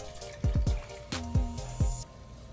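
A little water splashed into a pan of vegan coconut curry with potatoes and kale, several short gurgling drops and plops over a faint trickling background, close and fairly quiet.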